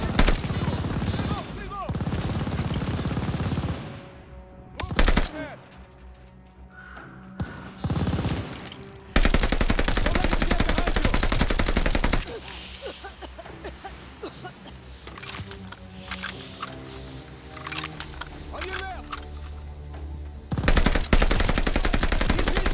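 Sustained automatic gunfire from a drum-magazine weapon in the shooter game Call of Duty: Vanguard, loud rapid bursts with booms and battle noise, separated by brief pauses, with some talk mixed in.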